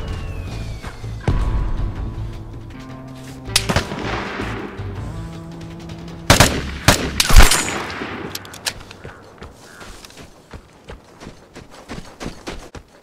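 A mortar strike lands in the Vigor shooter game, heard as a series of sharp, loud explosive blasts mixed with scattered gunfire, with the crashes decaying into rumbling debris toward the end.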